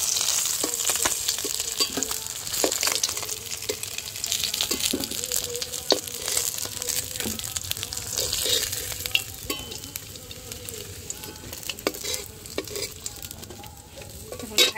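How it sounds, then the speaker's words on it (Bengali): Banspata river fish fry in hot oil in a pan, with a steady bright sizzle and crackle, punctuated by frequent scraping and clinking of a spatula as the pieces are turned. "মাছগুলো লাল লাল করে ভেজে নিয়েছি, তুলে নেব।"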